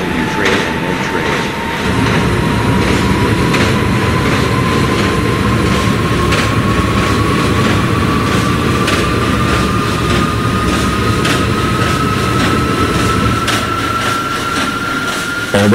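A subway train running near Lexington Avenue and 34th Street, a loud, close, continuous rumble and roar of wheels on track with a slowly rising whine over it, steady throughout, with no talk.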